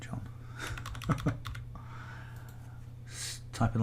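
Typing on a computer keyboard at a desk, with bursts of quick key clicks spread through the clip and a louder cluster near the end, set against a steady low hum and faint background voice.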